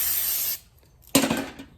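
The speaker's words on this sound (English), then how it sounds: "Now, I'm gonna spray this lint-free cloth one more time." Two short hissing bursts from a spray bottle spraying cleaner onto a lint-free cloth, close up, separated by a brief pause.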